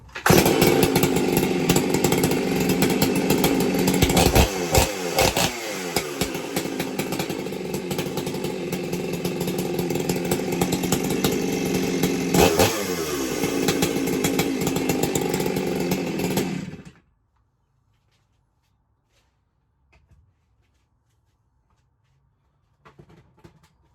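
Small two-stroke engine with a pop-up piston and half-moon filed intake runs steadily with a buzzing, chainsaw-like note for about seventeen seconds, then cuts off to near silence.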